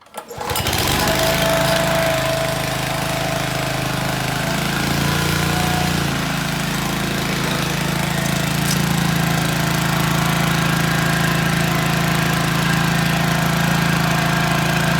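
A small Honda lawn mower engine starts and runs steadily at a close, loud, even drone that holds for the whole stretch, with no voices over it.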